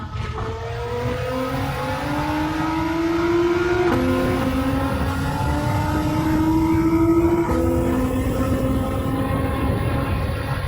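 A Nissan GT-R races in Gran Turismo 7, its engine revving up through the gears with a rising whine, dropping sharply at each shift twice, loud and continuous without talk.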